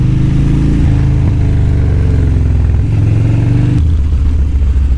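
A motorcycle rides over loose gravel, its engine droning loudly and close with shifting pitch. The rumble is joined by faint crunching and clatter, and a drop in engine pitch comes near the end.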